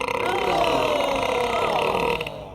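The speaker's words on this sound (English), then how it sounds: "Sir, please don't belch when you're finished." A long, drawn-out belch from a man at a formal gathering, loud and sustained for over two seconds with a gurgling, wavering tone before cutting off abruptly.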